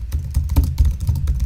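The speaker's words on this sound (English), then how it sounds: "I think I can type in my own chat." Rapid typing on a computer keyboard, steady clattering keystrokes close by and fairly loud, with no talking over them.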